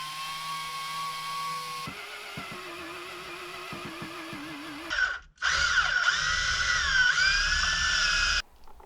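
A power drill bores into the core of a Catalina sailboat, its motor whining steadily under load, pausing briefly, then revving higher and louder as the bit cuts before stopping abruptly.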